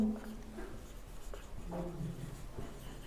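Chalk or marker strokes on a board during a Class 10 maths lesson on circle areas, faint scratchy marks coming in short bursts against a quiet room.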